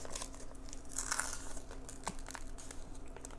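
Packing tape and wrapping on a mail package crinkling and tearing as it is pulled open, a steady close rustle with a few sharper rips near the start.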